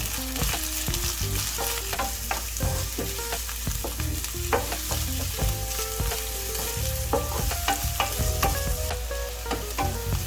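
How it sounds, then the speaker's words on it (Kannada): Onions fry in hot oil in a pan for a paneer dish, with constant sizzling broken by frequent scraping and clinking strokes of stirring throughout, loud and close with no speech. "ಈರುಳ್ಳಿನ ಸ್ವಲ್ಪ ಫ್ರೈ ಮಾಡ್ಕೊಳ್ಳೋಣ ನಾವು"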